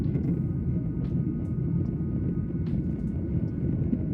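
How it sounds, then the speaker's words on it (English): Commercial plane taking off, a deep continuous rumbling roar with wind buffeting, steady and fairly close with no voices. "This is what a regular boring takeoff looks like for a commercial plane."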